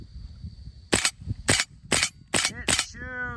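Airsoft Saiga 12k fitted with upgraded aluminum parts firing five sharp, loud shots in an irregular rhythm, each a crisp pop followed by a brief mechanical clatter, with a short ringing tone at the end.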